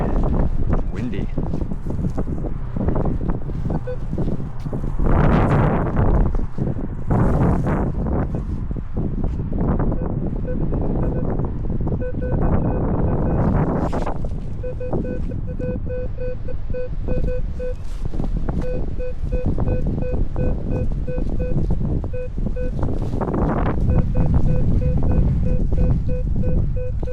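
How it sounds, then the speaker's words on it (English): Wind gusts through a park in a steady, loud rush and buffets the microphone, rising and falling over the whole stretch, with faint beeping and brief sounds mixed in. "Windy."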